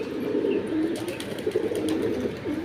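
Loft pigeons coo softly in a series of low, rolling calls repeated every fraction of a second, close by, with light background noise and no talking.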